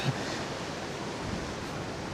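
Ocean waves surge into a rock pool on a coastal hike at Figure 8 Pools, a steady broad wash of water and spray that rolls on without a break, with no talk.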